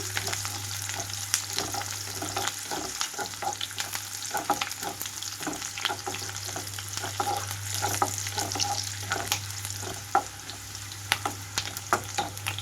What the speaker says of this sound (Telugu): ఇక్కడ ఉల్లిపాయ ముక్కలు సాఫ్ట్గా అయ్యే వరకు ఉంచుతున్నాను